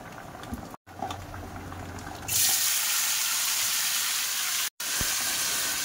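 A steady hiss of bubbling water rises abruptly partway through, loud and continuous, like a pot coming to a boil nearby.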